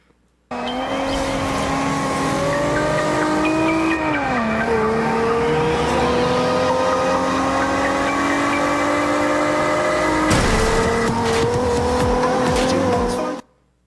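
Racing cars in a video game shown in a 2015 E3 Oculus Rift virtual reality demo: a loud, steady engine whine dips in pitch, climbs again and shifts, with tire squeals layered on top and no talk.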